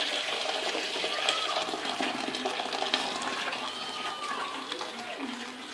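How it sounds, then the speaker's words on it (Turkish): Hot water pours steadily from a kettle into a yellowed teapot, a continuous close splashing and trickling stream that runs for several seconds at moderate loudness with no one talking. "Sadece kettle'ımızla sıcak suyumuzu döküyoruz."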